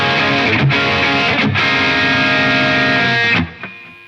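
Heavily distorted electric guitar chords through a DC Drive overdrive pedal ring loud and thick with a couple of brief chord changes, then get choked off, leaving a short buzzing tail.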